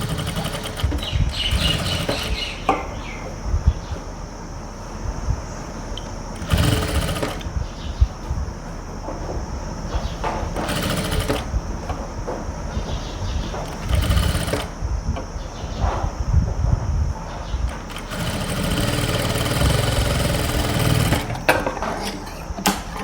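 Electric sewing machine stitching the pocket of an Afghani salwar, heard as repeated bursts of rapid mechanical whirring broken by short pauses, close and fairly loud.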